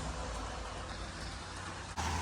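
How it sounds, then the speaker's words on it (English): Steady rain falls outside a cabin porch at an RV park in Pine, Arizona, a dense, even hiss that holds throughout and jumps slightly louder near the end. "As you can tell, it's raining"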